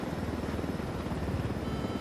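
A helicopter in the video game Tom Clancy's Ghost Recon Wildlands gives a steady, dense rotor and engine roar that stays loud and unbroken throughout.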